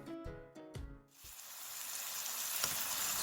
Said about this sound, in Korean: 소고기 등심을 맛있게 굽고요.